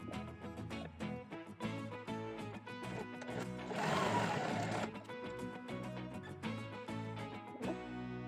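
A sewing machine stitches a seam while making an inverted notched collar garment, giving quick rhythmic mechanical ticks with a brief louder whirring burst in the middle and faint background noise.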